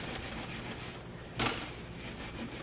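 Scrubbing a kitchen stove surface with Norwex cleaning paste, a steady close rubbing and scouring sound with one brief louder scrape partway through.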